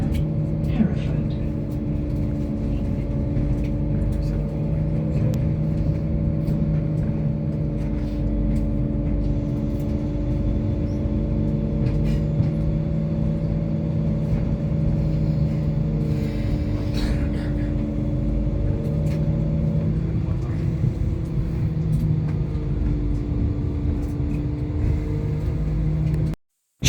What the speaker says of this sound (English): Straight after departing Birmingham New Street, the unit acceleration was absolutely impressive.